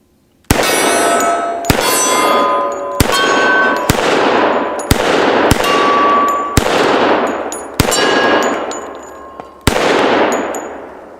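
Eight sharp gunshots fired at targets, each striking with a bright metallic clang that rings out and decays before the next, spaced about a second or two apart, loud and close with no talking.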